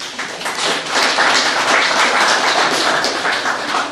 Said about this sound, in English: Clap for that person that said Joseph.